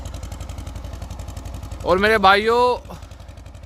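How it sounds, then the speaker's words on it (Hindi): Old Escorts 335 tractor from around 1990, roughly thirty years in service, running on a cold morning while harrowing: a steady low rhythmic engine chug throughout, with someone talking briefly over it midway. "ट्रैक्टर देख लो मेरे भाइयों कैसे चला रहा है"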